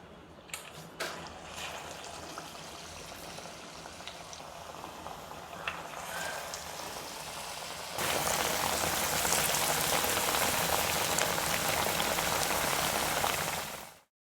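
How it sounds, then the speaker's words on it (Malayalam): Jackfruit and onion vadas drop one by one into hot oil with light clicks and crackles, then the frying swells abruptly into a loud, dense, rain-like sizzle that runs steadily until it cuts off. "എണ്ണ ചൂടായി വന്നിട്ടുണ്ട്. ഇനി നമുക്കതിലേക്ക് ഓരോന്നായിട്ട് ഇട്ട് കൊടുക്കാം."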